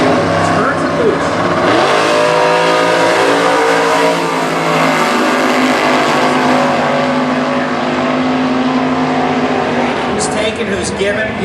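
A 1963 Corvette Roadster Super Gas drag race car with a 555-cubic-inch engine roars loud and close in a sustained, harmonic-rich blast at a drag strip in Indy. The revs shift early, then hold, and a commentator talks over the engine.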